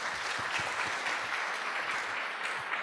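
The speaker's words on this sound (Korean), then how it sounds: "오늘 패널분들한테 큰 박수 좀" An audience at a Seoul group-talk event gives a short burst of applause for the panel. The clapping is dense and steady, moderately loud, and sounds like a hall full of people.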